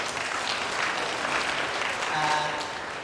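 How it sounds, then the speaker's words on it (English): A crowd at a biosecurity symposium applauds steadily throughout, a dense wash of clapping from many hands at moderate distance, with a few voices faintly mixed in. "round of applause"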